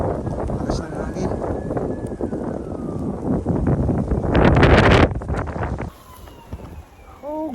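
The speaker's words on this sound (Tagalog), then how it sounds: "Lakas ng hangin." Strong blizzard wind roars during a December snowstorm in Winnipeg, Manitoba, a steady rushing buffet on the microphone that swells into a louder gust midway before easing, with faint voices and a whistling tone underneath.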